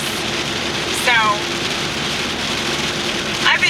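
Steady rain drums on a car roof and windshield as a broad, constant hiss heard from inside the vehicle, with a couple of faint chirping squeaks over the top.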